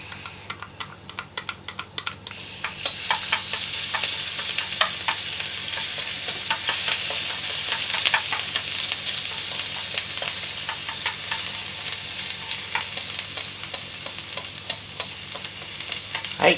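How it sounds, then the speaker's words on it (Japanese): Chopped garlic lands in hot salad oil in a deep pot with a few sharp clinks and pops, then settles into a steady, lively sizzle, with occasional scrapes from stirring and no voices. "ニンニク刻んだのを入れます"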